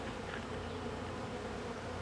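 Honey bees hum in a dense, continuous buzz around an open backyard hive during a clean-out of a weak colony. The sound is close and steady, with no voices.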